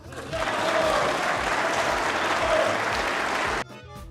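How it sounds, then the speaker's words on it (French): A theatre audience applauds a political parody show, dense steady clapping filling the room for about three and a half seconds before cutting off abruptly into near silence. "ça mérite ses applaudissements"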